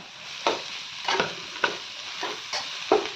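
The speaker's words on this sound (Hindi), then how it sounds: "मसाले भी मेरा फ्राई हो गए हैं। अब इसमें मैं कद्दूकस किया हुआ आलू को डाल देती हूँ।" Grated potato is added to frying spices in a pan and stirred, giving soft sizzling beneath a series of about six scraping stirs spaced roughly half a second apart, close and moderately loud.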